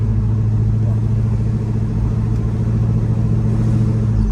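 A 1972 Chevrolet Chevelle with a 454 dual-quad V8 and 700R4 transmission cruising, a continuous loud low rumble heard from inside the car, steady without talk.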